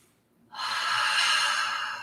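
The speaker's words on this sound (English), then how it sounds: "Just one big inhale." A single long, breathy inhale taken during a yoga flow, starting after a brief pause and holding steady and fairly close for over a second.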